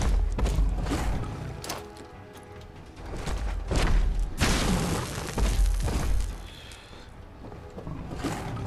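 A grenade explodes in the Fallout 4 video game with heavy, booming blasts. A strong surge near the middle gives way to rumbling debris and further thuds, loud and close, with no talking.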